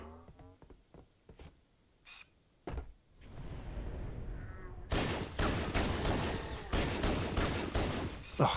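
Pistol fire in the game Halo CE Anniversary: a few sparse, sharp shots crack at first, then a dense run of loud rapid reports follows in the second half.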